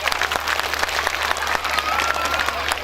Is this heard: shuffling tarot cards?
no